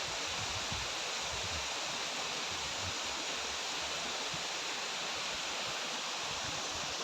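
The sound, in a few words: water flowing down from the mountains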